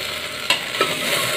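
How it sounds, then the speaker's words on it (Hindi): Taro root (arbi) fries in a pan with a steady, loud sizzle, broken by a couple of brief stirring scrapes, with no voices. "थोड़ा सा ब्राउन होने तक भूने अरबी को"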